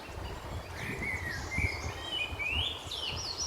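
Birds chirping and calling in Grangewood Park in early September, several thin high calls and short trills rising over a soft low rumble of outdoor background.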